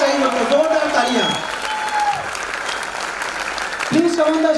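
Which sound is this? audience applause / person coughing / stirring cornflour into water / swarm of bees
audience applause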